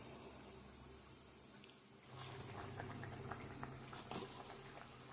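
Fish curry boiling in a pot: a faint, steady bubbling simmer with soft pattering pops, continuous and close, no talk.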